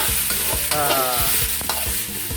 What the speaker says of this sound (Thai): กระเทียมแล้วก็ นำหมูกระช่อกับกุ้งนะครับ ลงไปผัดคั่วกันนะครับ